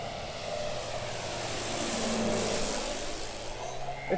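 A large radio-controlled Dancing Wings Tiger Moth model biplane with an 85-inch (2150 mm) wingspan flies past, its engine drone swelling as it nears and fading slightly, steady and fairly close with no voices.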